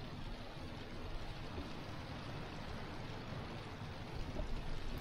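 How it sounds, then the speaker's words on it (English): A World War I aircraft engine in the flight sim Rise of Flight drones steadily from the outside view, a faint, even roar with airy noise over it and no breaks. "The engine sounds pretty good from the outside."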